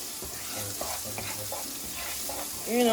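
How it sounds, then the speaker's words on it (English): Crushed red pepper flakes sizzle in hot frying oil, a steady, close hiss of frying with faint stirring scrapes throughout. "we're going to add a little pinch of red crushed peppers. So it can, the oil can grab some flavor to it already."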